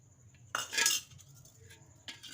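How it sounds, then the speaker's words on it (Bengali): A spoon stirs starter curd into warm milk in a bowl, with two short bursts of close metallic swirling and clinking over quiet background hiss. "দইটা দিয়ে ভালো করে গুলিয়ে নিচ্ছি"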